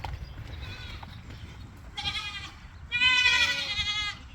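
Goats in a farm herd bleat loudly and close by, two drawn-out wavering calls rising over soft rustling and low background noise.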